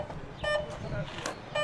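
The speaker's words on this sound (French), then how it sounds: "Ah, ça bip!" An electronic device inside a car gives two short, thin beeps about a second apart, faint under cabin noise and background voices.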